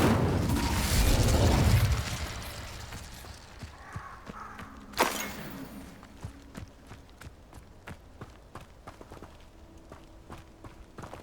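A fire spell cast in the video game Hogwarts Legacy bursts out loud and roaring at the start, then fades into lighter crackling with a sharp flare in the middle.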